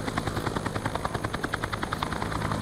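A helicopter pulls away with a rapid, steady rotor chop that pulses evenly throughout, clear and continuous at moderate distance.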